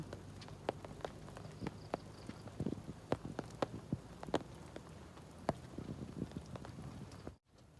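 Rain pattering steadily with irregular louder drips and taps striking a hard surface, close by, ending in a sudden cut to near silence.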